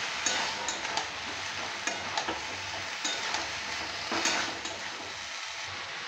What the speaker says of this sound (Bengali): এটা একটু নেড়ে চেড়ে নিতে হবে।